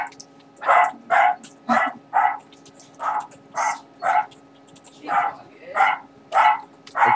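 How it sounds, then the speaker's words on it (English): Two pet poodles bark in short repeated bursts, about a dozen sharp barks spread evenly through the stretch, fairly close indoors over a low steady hum. "my dogs are very annoying"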